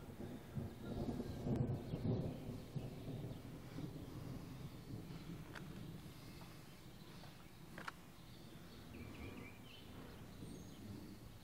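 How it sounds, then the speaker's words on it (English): Daytime severe thunderstorm rolling in over Clinton, Missouri in the morning, with a continuous low rumble of distant thunder and gusting wind buffeting the microphone, steady and broad with no voices. "This is the first decent daylight storm I've seen in quite a long time."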